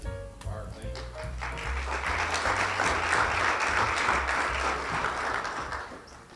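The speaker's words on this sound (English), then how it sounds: "Thank you for applauding." Applause breaks out at a chamber of commerce member appreciation luncheon, building into steady crowd clapping over a low musical tone at the start, with voices faintly underneath.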